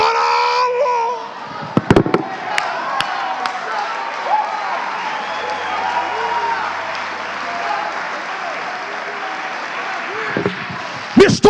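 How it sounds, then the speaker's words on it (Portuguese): A worship congregation clapping hands together in a dense, continuous stream of applause, with a few sharp louder claps at the start and end and voices present underneath. "Mistura a glória a Deus com essas palmas."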